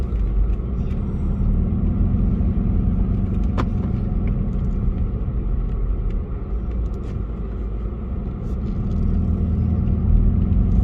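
A Volkswagen Polo 6R GTI drives along with a steady low engine and road rumble heard from inside the cabin, continuous and fairly loud throughout.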